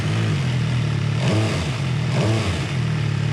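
An MV Agusta Dragster RR motorcycle idles close by with a heavy, uneven, generator-like chug, its note swelling briefly twice in light blips over a steady loud drone.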